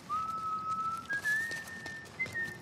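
Steady whistling by a character in The Last of Us: Left Behind, a long held tone stepping upward in pitch in a few stages, heard alone over a soft, noisy game ambience.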